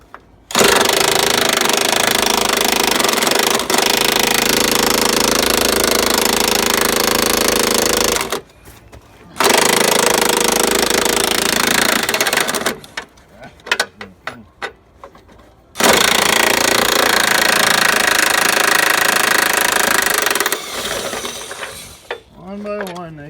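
Impact wrench loosening bolts one by one on the power divider of a Peterbilt 359 under restoration: long, loud, sustained rattling bursts with brief pauses and short clicks between them.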